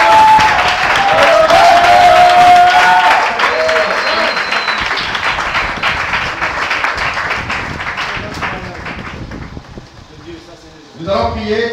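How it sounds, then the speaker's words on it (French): A church congregation at a French-language teaching service stands and applauds, with loud sustained clapping and acclaim that fades toward the end before a voice returns. "On va se lever et acclamer le Seigneur."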